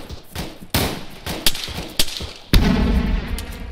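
Gunfire in the military shooter game ARMA 3: a dense, close crackle of shots with sharp louder reports around the middle, then a heavy, sustained burst of fire near the end.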